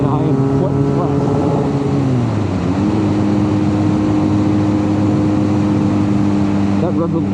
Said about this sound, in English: That rev limiter comes on much sooner than I'm used to.